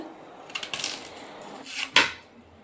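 Raw Nendran plantain being cut for chips, a few light knife taps and scrapes against a board, ending in one sharper, louder cut, close by with no speech.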